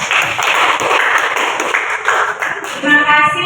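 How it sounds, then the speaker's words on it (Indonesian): A classroom audience applauds after a group presentation, with dense, close clapping that runs steadily throughout and a brief voice near the end. "Oke, kasih tepuk tangan dulu."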